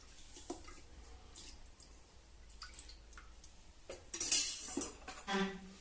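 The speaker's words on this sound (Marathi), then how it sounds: "आता पातेलं घ्यायचं आहे, त्यामध्ये तेल टाकायचं आहे" A metal pot clinks and scrapes a few times, then a brief splashing pour of oil into it follows, with quiet kitchen clatter around it.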